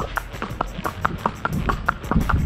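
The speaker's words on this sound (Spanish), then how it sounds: "caballo está en una trocha o en un trote" A young horse's hooves clip-clop in a steady, even trotting rhythm of close, distinct beats, with a low rumble underneath.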